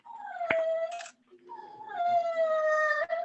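A dog howls excitedly in long rising and falling wails, close and loud, with a brief break in the middle before a second sustained howl, at an online awards event.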